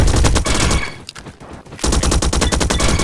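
Mac-10 fired in the Roblox shooter Bad Business, with two loud, rapid bursts of automatic fire separated by a short pause, a sharp stream of rattling shots up close.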